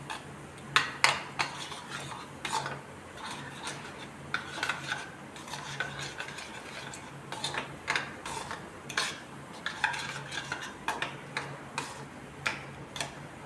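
A spoon stirring grated carrot raita ingredients together in a bowl, giving repeated light clinks and scrapes in an irregular rhythm, close and fairly quiet.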